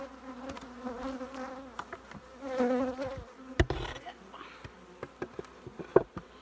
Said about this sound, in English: They're making a ton of propolis, and there's a lot of bees in there.